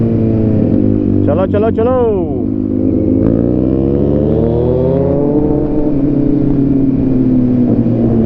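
A Kawasaki Z900 motorcycle engine hums steadily and close by, with a brief rising rev early on, mostly under excited shouting voices throughout.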